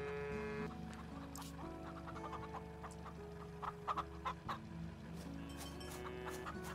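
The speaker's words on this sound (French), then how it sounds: "C'est des poules de luxe ou c'est pas des poules de luxe?" Chickens in the farming video game Farm Together 2 cluck in short, scattered bursts at moderate distance, heard over a steady background music bed.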